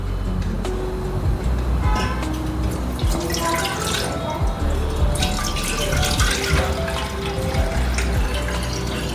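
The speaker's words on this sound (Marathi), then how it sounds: "आता हा गोळा काढून घ्यायचा आणि ताक काढून घ्यायचं आणि परत स्वच्छ पाण्याने धुवायचं" Clean water runs steadily from a tap over a lump of butter being washed for homemade ghee, a continuous close splashing and trickling flow with occasional drips throughout.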